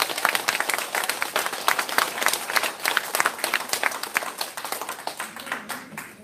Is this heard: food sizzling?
no